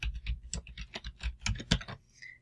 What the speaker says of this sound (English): And now all I need to do is just start typing.